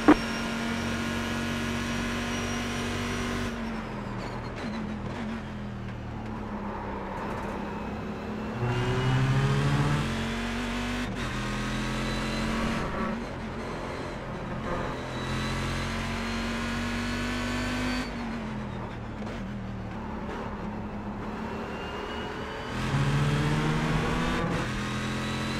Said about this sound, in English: Car on your right. Keep left.